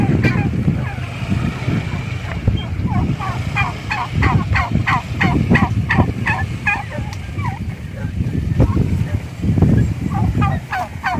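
Four domestic geese kept in a coop call in repeated honking bursts, loud and close, overlapping one another for several seconds above a constant low rumble of background noise.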